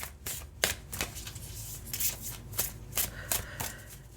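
Tarot cards being shuffled and drawn during a reading: quick papery riffles and soft slaps in an uneven rhythm, close and fairly quiet, with no talking.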